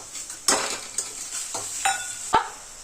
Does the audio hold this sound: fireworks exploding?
no